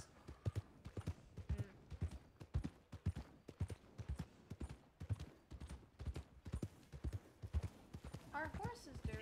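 A horse's hooves clip-clop in a steady, fairly close rhythm of sharp knocks, with people talking over them throughout and a brief whinny-like squeal near the end.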